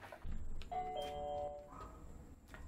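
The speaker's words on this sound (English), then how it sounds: "let's see what happens when I go ring the doorbell." A smart home doorbell chimes with a clear two-tone ding-dong, ringing once indoors at moderate volume, its tones sustaining briefly before fading into quiet room noise with a faint knock or click.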